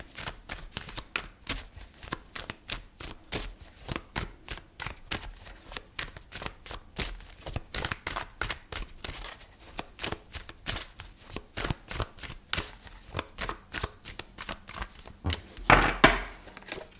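Tarot cards are shuffled close by in a long run of crisp flicking, riffling pulses, with a louder burst of clatter near the end.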